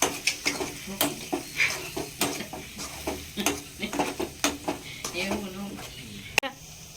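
Chopped green chilies hitting a pan of hot oil and stirred, with repeated sharp metallic scrapes and clinks of a spoon against the vessel over a low sizzle, brief voice sounds in the background.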